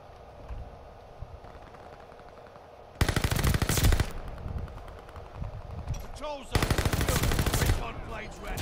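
Rapid automatic gunfire in the video game Call of Duty: Vanguard, two loud sustained bursts of machine-gun fire against quieter background game sounds, with a player talking over part of it.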